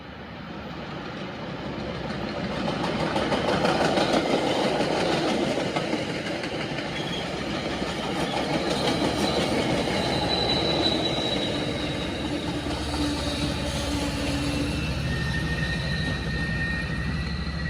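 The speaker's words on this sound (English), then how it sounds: "This is Ballard Vale on the line up to Haverhill, southbound train." A southbound MBTA commuter train hauled by an MPI HSP46 locomotive passes Ballard Vale on the Haverhill line, a loud sustained rumble of engine and rolling wheels with faint squeals and tonal whines, steady throughout.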